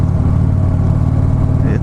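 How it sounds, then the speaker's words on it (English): A 2015 Harley-Davidson Street Glide Special rumbles steadily and low while being ridden, a smooth, continuous engine drone with wind noise throughout. "Yet you get that, still get that nice soft little rumble that's so Harley"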